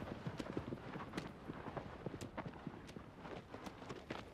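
Horse hooves pound in the video game Shadow of the Colossus on PS4, a steady rhythmic clatter of galloping beats over low rumbling ground noise, faint and continuous with no talk.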